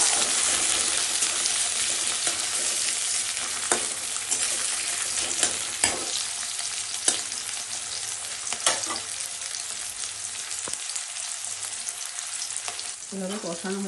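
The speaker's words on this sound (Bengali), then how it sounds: "এখন এখানে টমেটো দিয়ে দিচ্ছি। টমেটোগুলোকে এভাবে একটু কষিয়ে নেব।" Tomatoes frying in hot oil for a Bengali babla fish curry give a steady, close sizzle, with occasional sharper scrapes and clicks from stirring the pan. No talk is heard.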